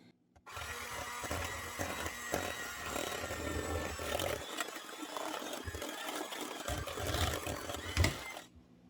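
An electric mixer whirs through coconut flour bread batter in a bowl, a loud, continuous close-up drone with brief dips and bumps as the beaters move.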